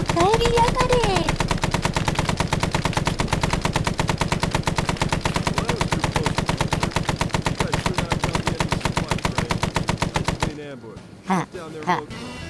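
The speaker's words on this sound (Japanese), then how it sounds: "銃声が聞こえる" Rapid automatic gunfire in the video game Arma 3 (S.O.G. Prairie Fire) rattles continuously in a fast, even rhythm for several seconds, loud and close, then cuts off into a few scattered thumps.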